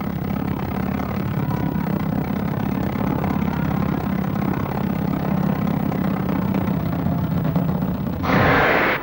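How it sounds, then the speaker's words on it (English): An airplane coming in to land gives a loud, steady engine drone with a broad roar throughout, swelling into a brighter burst of noise just before the end. "as the Allies' plane comes into land"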